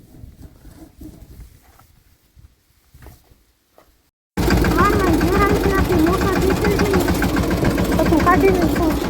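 A tractor engine, rigged to haul a stuck borewell motor out of the ground on a farm, starts abruptly midway after a quieter stretch, then runs loud, close and steady.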